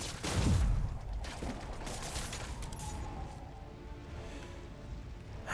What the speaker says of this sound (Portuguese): Eles estão atirando o tempo inteiro, eles estão atirando tipo ritmado